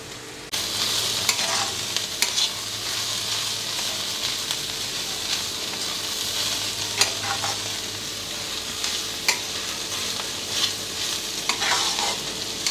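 Carrot and grated coconut stir-fry in a pan with turmeric, giving a steady, close sizzle with frequent scraping stirs throughout and no talking.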